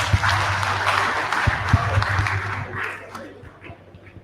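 Applause from the audience at an annual general meeting marking 100 years of Unilever in Nigeria, a dense burst of clapping that fades out over a few seconds, with a voice briefly audible.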